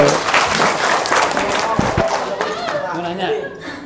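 Audience applause and clapping at a religious gathering about prayers and debts, broadband and steady through the clip with voices and laughter mixed in.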